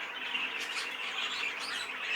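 A variegated yellow canary in a show cage gives soft, continuous twittering chirps, close and steady for a couple of seconds with no voices.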